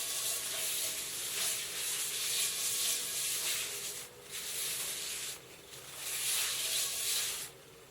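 Cloth wiped over a hot cast iron pan fresh from a wood cook stove's oven, giving steady close rubbing and faint sizzling hiss in several long strokes with brief pauses between them.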